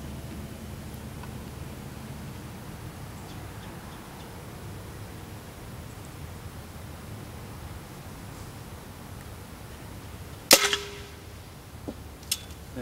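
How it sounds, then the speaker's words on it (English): A single rifle shot aimed at a pumpkin 100 yards away cracks out sharply over quiet outdoor background hiss, followed a moment later by a fainter second report. "Now, so far I've shot six straight and hit the pumpkin."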